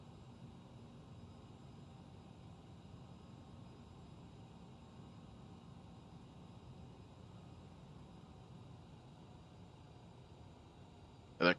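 A CRJ-900 jet taxiing in Microsoft Flight Simulator gives a faint, steady engine drone with an even hiss, ending in a short sharp click.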